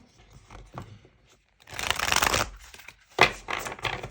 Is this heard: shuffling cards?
yes